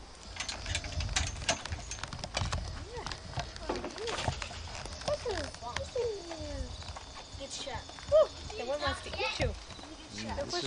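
Horses clip-clop on the ground in the background of an outdoor family scene, irregular hoofbeats mixed with people chatting over them throughout.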